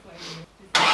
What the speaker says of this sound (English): I'll turn it over again for a bit longer.